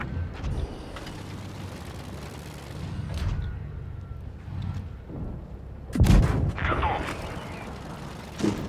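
Tank cannon fire in the mobile game World of Tanks Blitz: a heavy boom stands out over steady engine rumble and battle noise, with a few weaker thuds and mechanical clanks around it.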